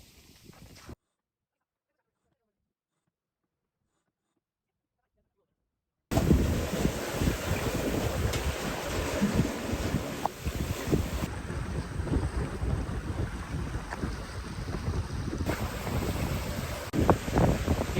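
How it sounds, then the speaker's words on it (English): Steady wind and sea noise aboard a sailboat on an offshore passage, a continuous broadband rush with buffeting gusts, near and fairly loud, after a brief quiet gap at the start. "But the wind did fill in again."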